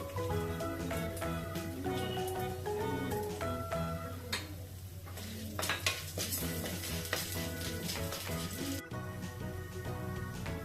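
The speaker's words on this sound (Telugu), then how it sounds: "లో ఫ్లేమ్లో మంచిగా స్మెల్ వచ్చే వరకు ఫ్రై చేసుకోవాలి" Chana dal and urad dal frying on a low flame in a pan, with gentle sizzling, occasional clinks of a spoon against the metal and light stirring over a steady hum of background music.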